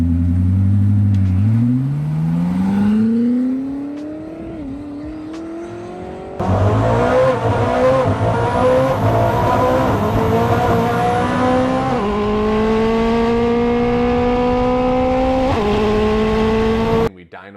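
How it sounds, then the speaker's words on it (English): A Koenigsegg Jesko, an extremely high-horsepower car, revs and accelerates hard through rising gear sweeps, loud and close. The engine note climbs, breaks between shifts and holds a sustained high-rpm roar near the end. "the Koenigsegg Jesko is another extremely high horsepower car that's gonna be fast"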